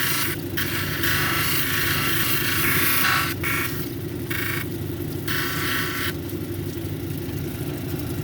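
A lapidary grinder runs steadily with a continuous whir as a bumblebee jasper cabochon is ground on a 280 grit wheel, rasping grinding noise rising and dropping in bursts against the motor hum, close and fairly loud.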